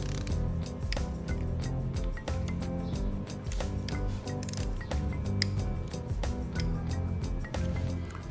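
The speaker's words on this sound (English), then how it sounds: "Sorry guys, I don't have a fancy dinger on my torque wrench. It's just a quiet clicker." A quiet clicker torque wrench tightening the oil pan bolts on a cracked Lamborghini V10 engine rebuild, giving a run of small, sharp metallic clicks at an uneven, repeated pace against close workshop clatter.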